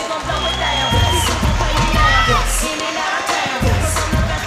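Spectators at a combat sports bout cheer, shout and clap in a loud, continuous crowd roar, while an announcer's voice talks over the noise.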